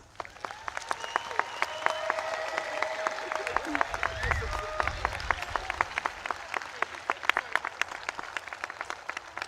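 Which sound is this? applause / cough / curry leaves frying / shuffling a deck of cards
applause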